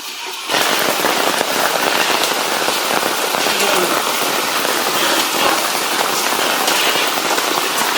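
Steady heavy rain pours outdoors beside a wood-fired stove where halwa is being cooked, a dense continuous hiss with crackling patter that starts abruptly after a brief quiet moment and holds loud throughout, with no voices.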